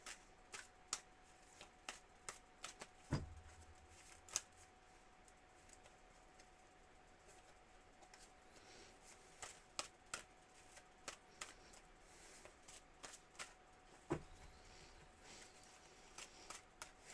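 Tarot cards being shuffled in a quiet room, a series of crisp riffling snaps and soft taps that come in irregular bursts, with two heavier thumps as the deck is knocked together.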